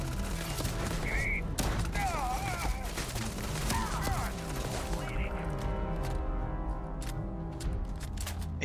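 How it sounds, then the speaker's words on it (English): Bursts of shotgun fire loaded with slugs in the video game Starfield, booming over dense, continuous combat noise and music, loud and close throughout with no talking. "Shotgun rocks."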